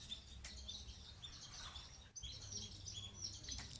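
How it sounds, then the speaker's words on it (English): Pied kingfisher calls ring out as sharp, high chirps in several short bursts over faint background noise, heard without talk. "Sounds of the kingfisher,"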